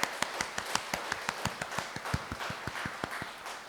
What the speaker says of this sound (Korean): 우리 함께 하신 주님께 우리 감사의 박수 드릴까요?